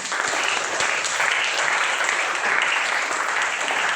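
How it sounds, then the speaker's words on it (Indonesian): Clapping from an audience at a teaching session, a steady, moderately quiet patter of many hands that holds evenly throughout. "tepuk tangan dong semuanya."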